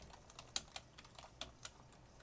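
Keys on a computer keyboard are tapped to enter an address, a handful of light, uneven clicks spaced apart and heard up close in a quiet room.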